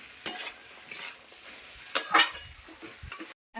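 Vegetables and potatoes are stirred and fried with cumin, ginger and chili paste in a pan, a spoon scraping in short bursts over a soft, steady sizzle.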